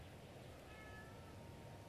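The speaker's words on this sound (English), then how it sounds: "is doing what she normally does when she wakes up and just meowing really loudly" Evie the cat meows faintly in the distance over a steady background hiss, a short drawn-out call rising out of the low room noise.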